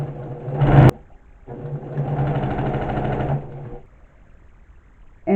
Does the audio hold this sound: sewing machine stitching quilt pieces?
yes